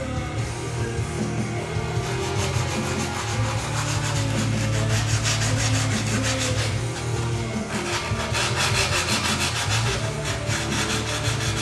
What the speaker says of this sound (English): now I'm going to go ahead and take the burr off of that, and the way I'm going to do it is with some wet dry